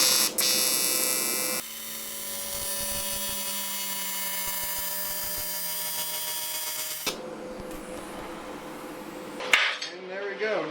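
AC TIG welder running a 1/16 inch 5356 rod on 16 gauge aluminum gives a steady buzzing hum with a faint crackle for about five seconds, stopping abruptly before a few clanks and a brief voice.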